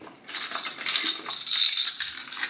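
Keys dropped into a Jacquemus bag, a bright metallic jingle and clinking that rattles close up for a couple of seconds.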